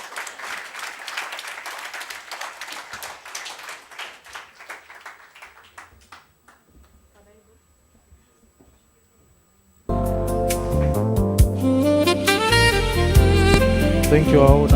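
Audience clapping at an internet governance forum, a bright burst of applause that fades to near silence, after which loud music with a heavy beat cuts in.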